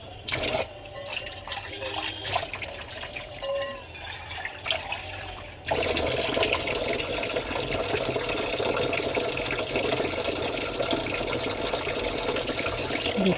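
Tap water runs into a serving bowl that has been in use about a year and half and is being checked for a crack and leak. A softer trickle with drips comes first, then a louder, steady, continuous gush.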